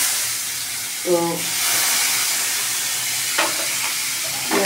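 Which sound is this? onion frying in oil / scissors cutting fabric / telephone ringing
onion frying in oil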